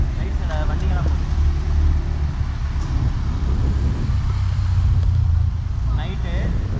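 Vehicles pass along a street at night in Phuket, a steady low rumble of engines and tyres rising and fading, with people talking over the traffic noise throughout.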